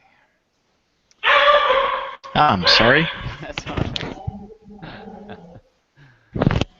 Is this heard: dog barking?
yes